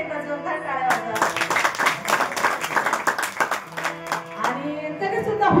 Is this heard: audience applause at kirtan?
yes